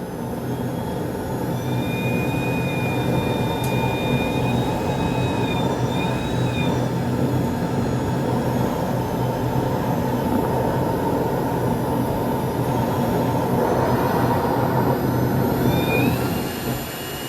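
A small jet engine runs at a constant, loud roar with a thin high-pitched whine that drifts in and out.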